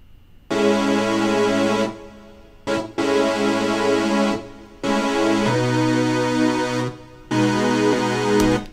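Layered sine wave synth chords without filter automation, played in four long sustained blocks with short gaps, bright and steady throughout with no sweeping tone change, loud and up close.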